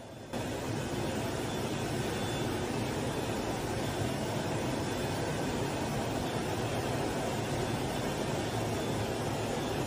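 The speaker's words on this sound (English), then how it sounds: "This close-up video of a supersonic fighter jet shows the plane almost breaking the sound barrier." Steady, loud roar of a supersonic fighter jet flying close overhead near the sound barrier, a broad continuous rush of noise with no breaks.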